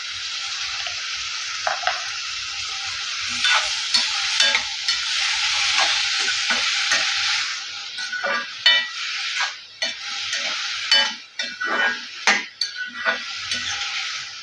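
Salted eggplant sautés in a pan for kathirikkai kochi, a steady loud sizzle with repeated stirring scrapes and clinks of a spoon against the pan throughout.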